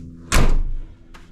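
Door on an M1078A1 military truck swung open by its handle, a single loud metallic clunk with a short rattle, followed by a fainter latch click moments later.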